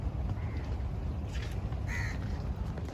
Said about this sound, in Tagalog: dami namang uwak dito.